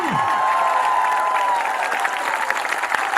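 Applause from a large crowd at a political rally in Jhirka Firozpur, Mewat, heard as continuous dense clapping throughout, steady and fairly loud with scattered cheers.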